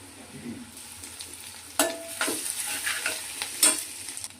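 Onions, curry leaves and a teaspoon of ginger paste frying and being stirred in a pan with turmeric, a soft steady sizzle broken by a few louder stirring scrapes and clatters close by.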